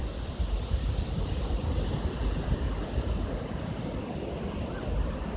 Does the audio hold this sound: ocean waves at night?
yes